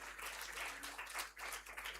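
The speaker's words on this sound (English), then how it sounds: "Please give them another big round of applause." Audience applause for a panel at a human rights and elections forum, dense clapping heard fairly quietly and at a distance, with a brief dip before it swells again.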